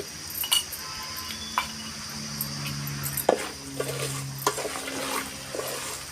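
Spiced dal curry with coriander and cumin powder is stirred in a pan, a low sizzle beneath scattered spoon clinks and scrapes against the metal, with a sharper knock in the middle.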